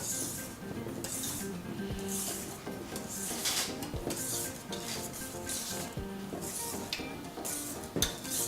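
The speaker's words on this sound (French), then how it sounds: "Je reprends le fouet." A whisk beats a chocolate mousse mixture in a bowl, metal clinking against the sides in a quick steady rhythm with periodic harder taps, close and clear without talking.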